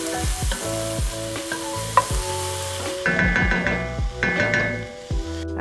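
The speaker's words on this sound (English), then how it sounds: "Give that a little stir, and we're going to let this cook for about 5 minutes or until the onions are translucent." Onions and bell pepper sizzling in a pan for shakshuka while being stirred, with a steady fry hiss and repeated close utensil clicks and scrapes against the pan, busier in the second half, with no voices.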